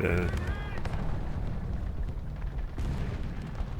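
Rapid fire from a video game half-track mounting three 15mm cannons, heavy booming bursts running continuously under steady talk.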